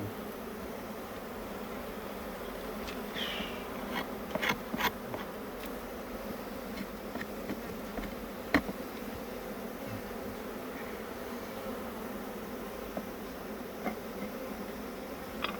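A sustained hum of many bees buzzing fills the air during a hive inspection after a swarm, with occasional individual bees zipping close by and faint clicks.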